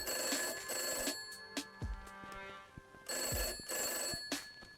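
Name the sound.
telephone ringing in video game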